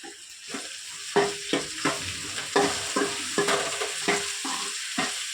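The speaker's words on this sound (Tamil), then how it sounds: "தக்காளி நல்லா வதங்கட்டும்" Tomatoes and onions sauté in a pan, a soft sizzle under a regular rhythm of spatula scrapes and taps, roughly a dozen strokes, with no talking.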